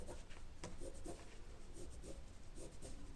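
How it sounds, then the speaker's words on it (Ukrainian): Pencil or chalk drawing a second cutting line on fabric that frays, about half a centimetre from the paper pattern, heard as a continuous near scratchy rubbing with a few short strokes. "накреслити другу лінію"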